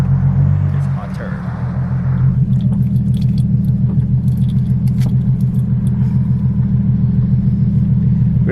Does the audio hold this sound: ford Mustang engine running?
yes